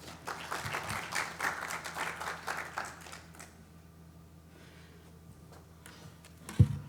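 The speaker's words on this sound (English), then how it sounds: "Let's give him another round of applause." A round of applause for Dr. Udoka at a summit: a crowd claps loudly at first, then the clapping thins and fades into room noise, with a low hum under it and a sharp bump near the end.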